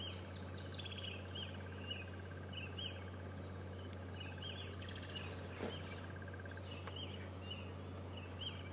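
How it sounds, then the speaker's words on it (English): Red-billed oxpeckers calling near a nest on a morning safari drive at Djuma and Arathusa, a series of faint, rapid hissing chirps and short twittering bursts scattered over a steady low engine hum, fairly distant, with no talk. "Such pretty birds, these red-billed oxpeckers."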